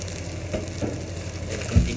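Nasi goreng fried rice, a 1 kilo batch, sizzles loudly in a hot pan while being stirred, with steady frying hiss and occasional scraping stirs close up.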